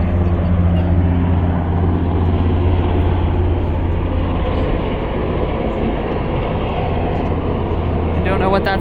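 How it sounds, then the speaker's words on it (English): Steady, loud drone of a helicopter overhead near Canada Place in Vancouver, a continuous low rumble that holds at an even level with broad noise throughout. "Now we're gonna hear some background noise, some helicopters, a specific one"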